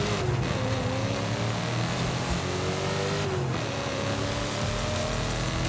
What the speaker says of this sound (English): I also really quite like the sound of this car.